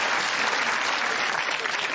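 Studio audience at a comedy quiz show applauding steadily, a dense even wash of clapping that holds at one level throughout with no talk over it.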